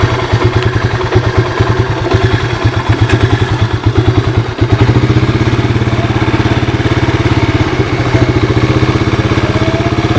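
A 1985 Honda ATC 250SX engine idles close by, a loud, rapid, chugging pulse that shifts after a few seconds into a smoother, steadier drone, with no talking.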